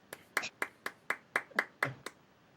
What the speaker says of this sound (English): He gets the golf clap.